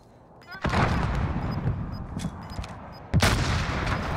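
Heavy explosions and gunfire in a video game shooter, a loud grenade-like blast followed by rumbling and a second sharp boom later, with dense battle noise throughout.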